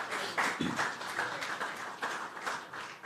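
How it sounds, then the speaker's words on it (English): Audience applause for the Master of Ceremonies at a Workers' Week and Labour Day launch event: a steady wash of many hands clapping at moderate level, with no voices over it. "I want you to give the Master of Ceremonies a big round of applause."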